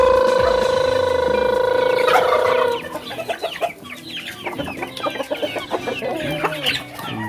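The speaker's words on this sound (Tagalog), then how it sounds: "Ngayon mga katsikin, tatawagin natin yung ating mga manok." Free-range chickens on a farm clucking in a busy overlapping chorus as they gather after being called, with a steady tonal hum through the first few seconds.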